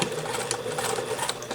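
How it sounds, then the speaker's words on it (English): A sewing machine stitches a seam and runs briefly in reverse to back tack, a short, steady mechanical whir close by with no voices. "I'm going to take a few stitches and back tack."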